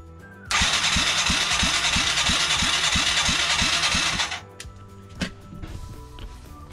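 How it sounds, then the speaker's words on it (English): A Yamaha Moto 4 YFM225/YFM200 DX ATV engine with a compression tester fitted cranks over on the starter for about four seconds, a steady rhythmic chugging of roughly a dozen even compression strokes, loud and close, then stops into quiet with a couple of small clunks. "I'm going to crank it and test the compression"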